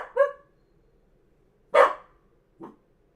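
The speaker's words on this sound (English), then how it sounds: "the dog is barking" A dog barks three times in short, separate bursts, the first and second loud and close, the third softer and clipped, with quiet gaps in between and no voices.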